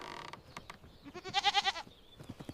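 Goats bleat on a village farm, a few short bleats at first and then a loud, wavering bleat near the middle, close by and heard alone with no talking.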